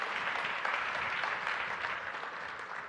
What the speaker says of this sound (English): So everybody give Henry a nice round of applause.